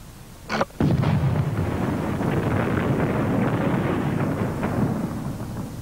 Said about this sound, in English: Some explosion, eh, fellas?